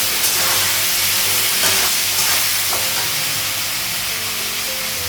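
Pointed gourd and potatoes fry in a pan with a constant loud sizzle and hiss, broken by occasional stirring clinks, and no voices are heard.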